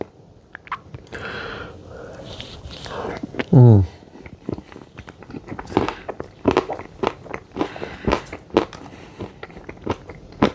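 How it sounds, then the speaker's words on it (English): Crunchy bites into Ben & Jerry's sundae crunchies, close and loud, with a sharp bite then steady crackly chewing crunches, and brief murmured vocal sounds early on. "The crunchies are crunchy, definitely."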